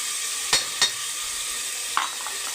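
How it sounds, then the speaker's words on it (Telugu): Curry leaves, chopped onions and tomatoes frying in hot oil in a pan, a soft steady sizzle under a few sharp scrapes or taps of a stirring spoon, close and alone. "ఇప్పుడు ఇందులోకి కరివేపాకు, ఉల్లిపాయ ముక్కలు, టమోటాలను కూడా వేసుకుంటాం"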